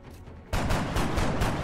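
Gunfire in the XCOM video game: after a quiet start, a loud burst of rapid automatic shots rattles on for over a second in close, pulsing repeats.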